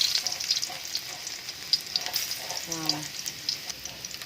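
Garlic sautéing in a pan, a steady sizzle with light stirring scrapes and a brief spoken word over it.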